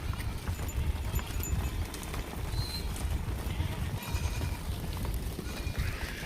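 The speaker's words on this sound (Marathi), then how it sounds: "हे एक मेंढा चाललाय एक मेंढी मेंढी मेंढी" A small flock of sheep with a ram walks past outdoors, their hooves making faint, irregular clip-clop steps over a constant low rumble of background noise, with a brief high call partway through.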